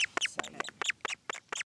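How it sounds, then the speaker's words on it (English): A black petrel chick in its burrow gives a rapid series of about eight harsh, nasal honking calls, close and distinct, then falls silent. "That's a chick honk."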